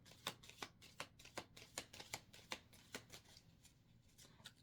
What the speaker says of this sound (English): I'm just going to shuffle it out.